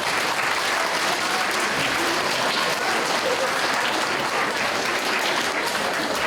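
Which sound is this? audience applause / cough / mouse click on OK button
audience applause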